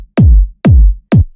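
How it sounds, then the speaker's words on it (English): Three hard-hitting layered kick drum hits in a deep minimal house track, each a punchy transient with a booming low tail, spaced evenly and played alone. "You can hear this is just this nice hard-hitting kick."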